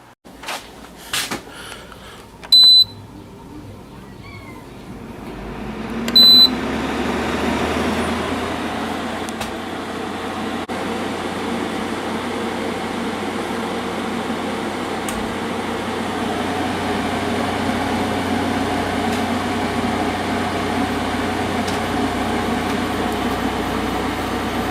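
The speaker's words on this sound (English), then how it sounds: "Pretty quiet. Compressor just started." Window air conditioner starting up: a few sharp clicks and knocks, then the compressor kicks on about a quarter of the way in and settles into a steady, fairly quiet running hum with rattle that continues to the end.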